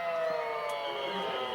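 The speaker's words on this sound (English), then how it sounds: "It is a fire siren going off here, and it's right in our ear." A fire siren wails steadily near a high school football game, a sustained tonal drone that sounds fairly close but slightly muffled, holding throughout the short stretch with no talk over it.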